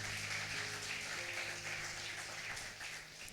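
Church congregation applauds during a service, a continuous wash of clapping carrying over a steady low hum, fairly soft and unbroken for a few seconds.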